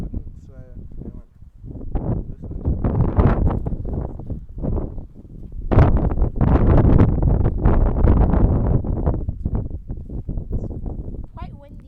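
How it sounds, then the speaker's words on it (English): Gusty outdoor wind buffets the microphone with a low, rumbling roar that swells and fades, while people talk over it almost the whole time. "Quite windy today."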